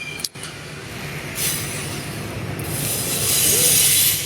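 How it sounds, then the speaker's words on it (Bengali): A double-decker RER train rolls past along the bank of the Seine in Paris, a loud, close, continuous rumble of wagons with rising metallic wheel squeal toward the end. "আরিয়ার বলতে একটা দোতলা ট্রেনরেও আমরা সংক্ষেপে বুঝি আর কি"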